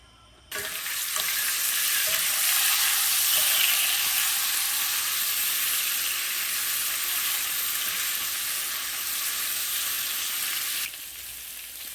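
Oil sizzling and frying in a hot pan while Haitian spaghetti is cooked, a steady, loud crackling hiss that starts suddenly and continues evenly before cutting off near the end.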